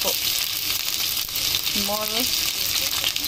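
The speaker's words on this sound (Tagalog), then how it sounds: "Put in chicken in the fry pan." Chicken pieces sizzle in hot oil in a frying pan, a steady close crackle with a brief voice sounding over it.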